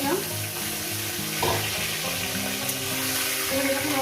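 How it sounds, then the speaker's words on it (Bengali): Catla fish heads fry in hot oil, a dense steady sizzle and crackle close up, with faint clinks and stirring noises, and no talking. "এবার মাছের মাথাগুলো আমি একসঙ্গে ভেজে নেব।"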